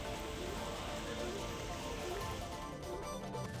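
Unseasonal rain falls in Matheran, a dense, steady patter of drops on surfaces, continuous and even for a few seconds, fairly faint with no voices.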